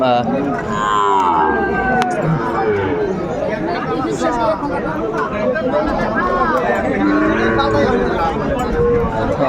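Cattle moo repeatedly at a busy livestock market in Kurigram where Sahiwal breed bull calves are traded, loud drawn-out calls overlapping with constant crowd chatter and nearby talking.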